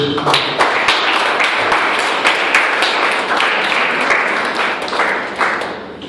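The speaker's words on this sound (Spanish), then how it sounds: "Démosle el aplauso a Dios." Loud congregation applause in a youth Apostolic church service, with many hands clapping in a dense, sustained wash and sharp individual claps standing out close by.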